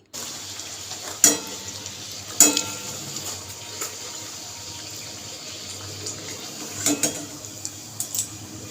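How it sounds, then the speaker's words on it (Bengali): Luchi flatbreads deep-frying in oil, a low, steady bubbling hiss broken by a few sharp splashes and clatters from dropping or turning the dough, close and clear with no speech. "চলুন লুচিগুলো সব ভেজে ফেলি"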